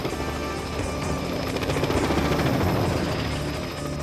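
A helicopter sound effect in a dramatized reading of Roald Dahl's The BFG, with helicopters carrying bound giants: a loud, steady rotor chop with rapid rhythmic thudding over a dense engine roar, easing slightly at the end, with no voices.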